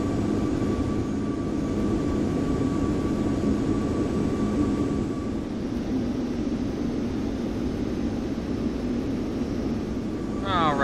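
Aircraft engine drone in a flight simulator cargo flight, a steady broad rumble with a faint tonal whine, continuous and moderately loud, with a short chirping electronic sound near the end.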